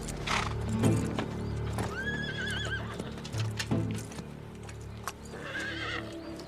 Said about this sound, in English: The horse is lame.